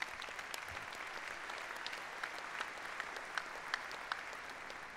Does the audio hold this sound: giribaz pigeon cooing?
no